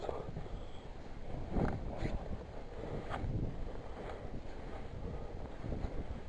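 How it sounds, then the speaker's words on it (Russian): Steady wind buffeting the microphone while winter fishing on a bay, a constant rumbling roar with gusts rising and falling, no other clear sounds. "ветер задувает"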